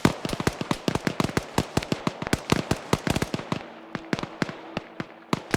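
Grenade explosions and gunfire in a competitive shooter, a dense rapid series of sharp close cracks that thins out toward the end, heard alone.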